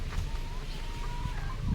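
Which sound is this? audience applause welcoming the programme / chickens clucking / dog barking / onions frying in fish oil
chickens clucking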